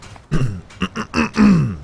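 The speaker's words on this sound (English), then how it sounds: "I'm gonna have to clear my throat a lot" A man clears his throat several times in quick rough bursts, close to the mic, during a Skyrim play session.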